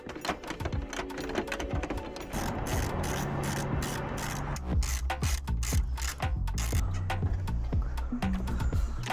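A ratchet clicks in quick, uneven bursts while the bumper is stripped off a Porsche Carrera S, with clatter and knocks of parts being handled in between.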